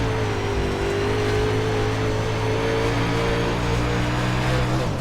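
Race car at Lucas Oil Speedway dirt track in iRacing, its engine droning loudly and steadily with a strong tone that sways slightly as the throttle changes, with no talking.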